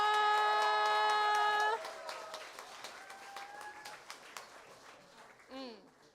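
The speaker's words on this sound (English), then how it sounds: "Can we give a round of applause for Marsha?" A sustained ringing musical tone ends, then an audience at a live storytelling event breaks into scattered, lively clapping that gradually thins out.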